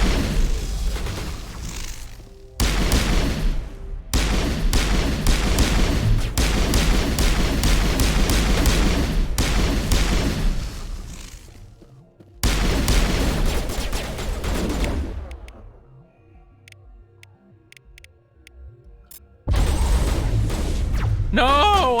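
Gunfire in the Mass Effect video game, loud bursts of rapid shots in several long volleys separated by brief gaps and a quieter stretch with mechanical clicks and tones.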